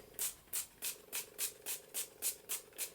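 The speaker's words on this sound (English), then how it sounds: "So I'm just going to spray that over that." Nine quick, evenly spaced bursts of fine mist hissing from a pump spray bottle, close and fairly soft, with no voices.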